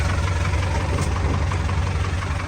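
An Isuzu 4BE1 truck engine idles with a steady, loud diesel rumble and a knocking throb, close up and continuous without talk.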